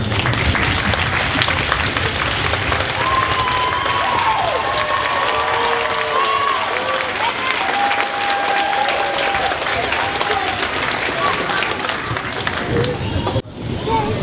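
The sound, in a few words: audience applause for graduates' family members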